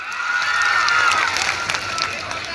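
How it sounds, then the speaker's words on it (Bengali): An audience at a live orchestra stage programme claps and cheers together in a broad, sustained roar of applause that swells briefly and then settles. "কতটা ভালো লাগছে একটা জোরে হাততালি দিয়ে বুঝিয়ে দিন।"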